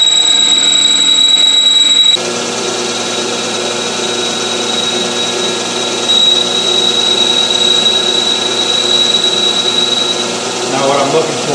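A metal lathe makes a facing pass across a blank die. It hums loudly and steadily with a sustained whine and broadband cutting noise. A sharp shift comes as the cut begins, then the tone stays even.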